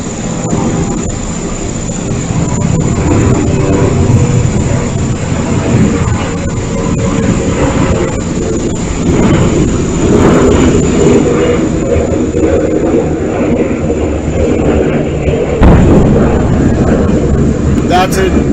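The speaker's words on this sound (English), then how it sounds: "That's an Israeli jet intercepting the missile." An Israeli jet aircraft flying overhead while intercepting a missile, a loud sustained roaring rumble with a high whine, heard under someone talking.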